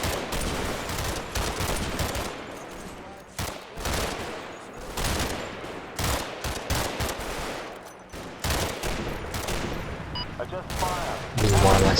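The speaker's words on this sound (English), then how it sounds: "12 platoon lay down suppressive fire both on my left flank and the building in the" A platoon lays down suppressive fire in the video game Combat Mission during an Operation Epsom battle at Mondrainville, with dense, overlapping bursts of rifle and machine-gun fire that crackle almost nonstop and pause only briefly.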